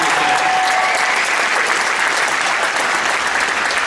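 An audience at a bodybuilding figure competition claps for the competitors, with steady, dense applause at full loudness throughout.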